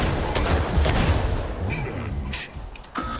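Dense, booming robot weapon fire rattles in rapid overlapping bursts during a Mech Arena match, loud and continuous with clanking game effects.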